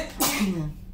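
A single short, sharp sneeze bursts out close by, followed by a brief trailing breath.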